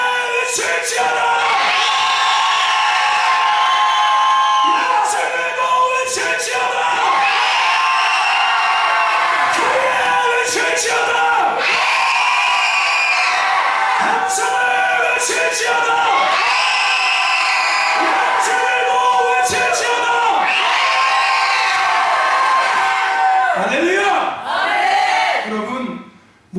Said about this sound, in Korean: 크게 외칠지어다.